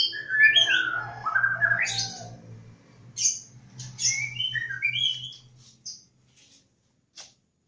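Lovebirds in a breeding cage give a burst of high, rapid chirps and tweets, then scattered short calls that thin out toward the end. They sound close and clear, with a low steady hum underneath.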